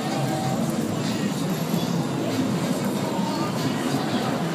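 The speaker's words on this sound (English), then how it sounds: "there's a train." Continuous rumble and rattle of a train passing close by at night in Portland, loud and steady throughout.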